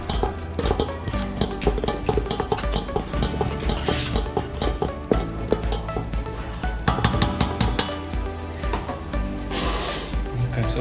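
Pizza dough for brick oven pizza being mixed by machine, a busy churning and scraping that runs steadily through the clip, with someone talking over it briefly.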